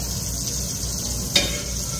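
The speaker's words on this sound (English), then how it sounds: "Saute our porcini and saffron milk cap." Porcini and saffron milk cap mushrooms sauté in a pan with a steady close sizzle, broken by one brief clink or stir partway through.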